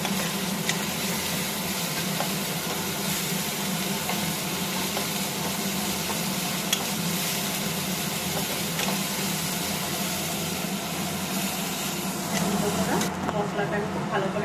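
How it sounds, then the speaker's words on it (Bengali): A spoonful of garlic paste fries in a pan with a steady, even sizzle that continues throughout, while a person talks over it. "এবার আমি রসুনের পেস্ট 1 চামচ, এটাকে আমি লাল করে নেব।"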